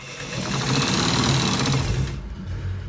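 A sewing machine stitches a collar shirt in a fast, even mechanical rattle of needle strokes for a couple of seconds, then stops abruptly, leaving a quieter hum close by.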